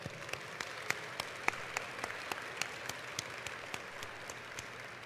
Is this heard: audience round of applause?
yes